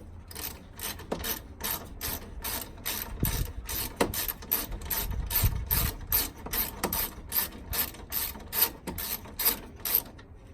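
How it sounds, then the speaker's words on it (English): A 10mm spanner works a bolt loose on a 2005–2015 Toyota Hilux N70 during a dual battery bracket install, giving a close, steady run of sharp metallic clicks in a fast, even rhythm for the whole stretch. "if you've just got a spanner, so this is just a 10mm spanner"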